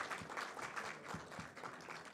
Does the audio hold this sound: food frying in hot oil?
no